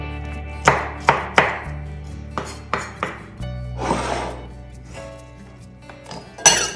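A knife finely chopping food on a board, a series of sharp, close chops in an uneven rhythm with a short scraping sweep midway and a final loud knock.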